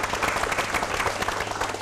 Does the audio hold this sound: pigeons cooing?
no